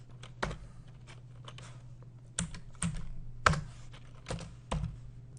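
A computer keyboard being typed on at a desk while working in Excel, with a handful of sharp, separate key clicks at uneven intervals, close and clear against a low steady hum, with no talking.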